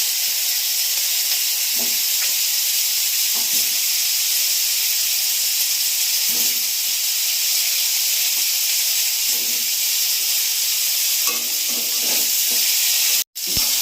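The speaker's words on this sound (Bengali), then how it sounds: "আমি কপিগুলো ভেজে নেব" Cauliflower pieces frying in hot oil in a pan make a loud, steady hiss and sizzle up close, with occasional soft stirring knocks and a sudden cutoff near the end.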